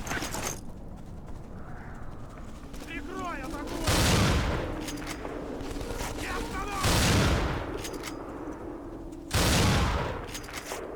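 Video game gunfire in three loud, separate bursts of rapid shots, each standing out sharply above a quieter bed of background game noise.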